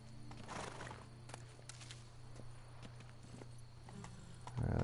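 Roach, a horse in The Witcher 3: Blood and Wine, moves at a steady clip-clop of hooves over a low continuous game ambience, ending in a brief louder snort or whinny.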